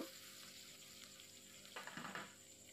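Chopped onion dropped into soybean oil with fried dried chillies in a pan for cabbage bhaji: a faint, steady background sizzle with a brief rise of crackling midway, no speech.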